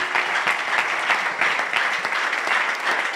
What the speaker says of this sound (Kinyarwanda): Dukomere amashyi umwami Yesu.